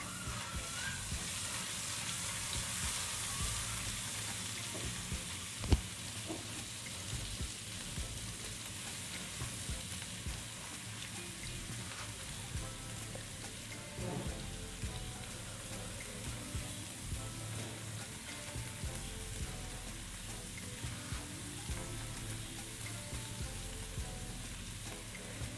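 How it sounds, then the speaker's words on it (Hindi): Garlic and ginger paste frying in hot oil for a Pakistani mince and onion dish, a steady close sizzle running the whole time with a brief clink near the start. "इनको हल्का सा भून लेंगे।"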